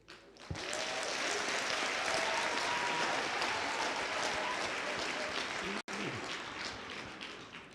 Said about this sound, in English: if you think it's important, please applaud hard